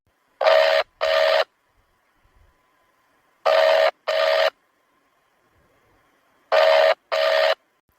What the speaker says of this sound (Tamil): ரோகிணி, ஃபோன் எடு.